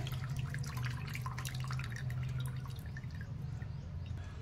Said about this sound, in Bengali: আমি এরপর এই নারকেলের জলটা একটা পাত্রে ঢেলে নেব